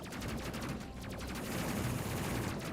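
Rapid automatic gunfire from ship gunners shooting at androids in the Space Crew video game, a dense fusillade of bursts that runs continuously and loud for the whole stretch, with no talk.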